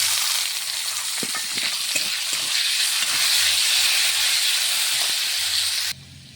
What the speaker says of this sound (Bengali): পেঁয়াজ কুচিগুলো ঢেলে দেব।